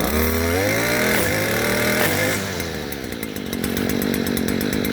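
A STIHL FS 56 RC gas string trimmer runs at full throttle, its two-stroke engine whining loudly and steadily up close, with the pitch dipping briefly partway through before climbing back.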